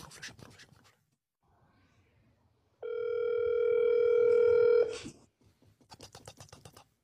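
A telephone call placed on speakerphone, with a steady ringing tone lasting about two seconds. Short bursts of talk and rustling come before it, and faint voices follow it.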